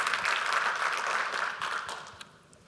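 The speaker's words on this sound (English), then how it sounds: "Give him a big round of applause." Conference audience applauding a speaker, a dense wash of clapping from a roomful of people that holds steady and then tapers off near the end.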